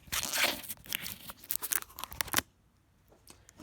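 Protective plastic film peeled off a Roku SE streaming device, a close, crackly tearing and crinkling lasting a couple of seconds before stopping, followed by faint handling noise.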